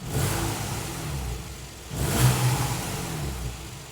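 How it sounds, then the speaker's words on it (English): A Porsche 911's naturally aspirated flat-six engine revs steadily with a smooth mechanical drone, swelling louder midway through as it climbs in pitch, with no voices. "it has something that everybody loves, a naturally aspirated flat six engine."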